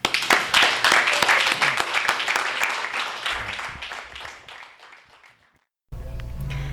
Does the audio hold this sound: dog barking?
no